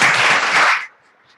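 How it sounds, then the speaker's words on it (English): Forum audience applauds in a short, dense burst of clapping that lasts under a second, then cuts off abruptly into quiet. "I just want to give you all a huge big thank you and a round of applause."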